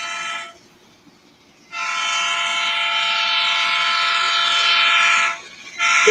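A passing train sounds loud and close, with a sustained bright warning tone holding for several seconds, breaking off briefly and then resuming. No one speaks.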